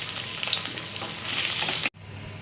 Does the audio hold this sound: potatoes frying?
yes